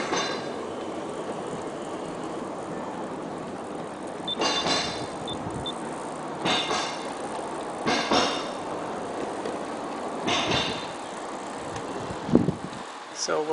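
USAT SD70 model trains hauling intermodal cars up a grade on an outdoor garden layout, a steady rolling rumble with periodic clacks and squeals as wheels cross track joints, heard under a voice.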